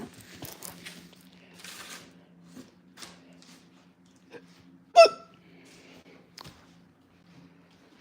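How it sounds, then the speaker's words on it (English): One sharp, loud hiccup stands out against a quiet room, with a few softer catches and small movement noises before and after it. "Daggone hiccups got me all messed up."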